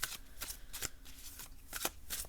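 A Goblins & Gardens tarot card deck is shuffled by hand in close, crisp bursts of riffling cards. About five quick flurries come in an irregular rhythm, separated by brief pauses.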